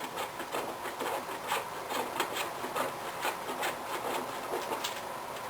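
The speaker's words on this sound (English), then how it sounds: "We're going to take one of these scent blocks, and we're just going to grate them." A scented wax block is grated into shavings as a homemade candle topping, giving a steady, rhythmic rasping scrape of repeated strokes that is close and moderately loud, with no voices.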